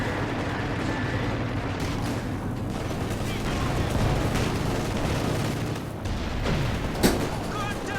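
A Command Panther's coordinated-fire barrage in Company of Heroes 2 rumbles as dense, continuous gunfire and booming artillery with a sharp crack near the end, while a commentator talks over it.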